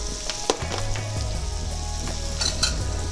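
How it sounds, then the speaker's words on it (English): Chicken fried steak drippings sizzle steadily in a hot pan as flour is stirred in, with scraping and clinking of a utensil against the pan over a continuous frying hiss, close and fairly loud, no talking. "We'll mix this in so that we cook off the rawness of that flour"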